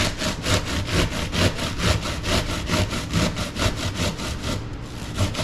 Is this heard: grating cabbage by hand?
yes